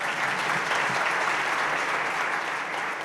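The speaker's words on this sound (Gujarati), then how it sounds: "એના માટે તાળી પાડો" A seated audience at a gathering of elders breaks into sustained applause, with many hands clapping in a full, even roar that holds for about three seconds.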